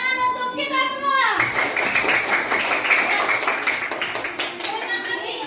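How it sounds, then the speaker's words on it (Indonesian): Group of schoolchildren in a classroom clapping together, a dense burst of many hands that starts right after a voice and carries on steadily for several seconds, close and loud. "Tepuk tangan untuk kita semua."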